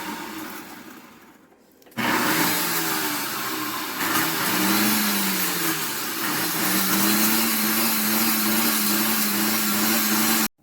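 A food processor whirs loudly and steadily after a quiet start, its motor pitch wavering as it chops pernil seasoning with a little oil, running continuously for about nine seconds with no talking.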